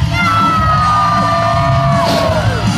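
Loud crowd yelling and whooping at a Texas State Fair BMX stunt show, a continuous wall of cheers and shouts with a whistle-like rising tone near the end.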